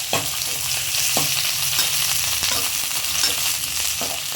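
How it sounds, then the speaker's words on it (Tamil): Okra sizzles loudly and continuously in oil in a pan, with a few sharp stirring knocks punctuating the steady frying hiss. "இப்போ இதில் பாதி அளவுக்கு வெண்டைக்காய் சேர்த்துக்கிறேன்"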